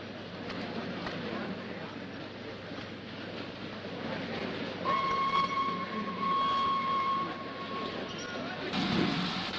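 A train running in a film, a steady rolling rumble with a whistle tone partway through, under quiet dialogue.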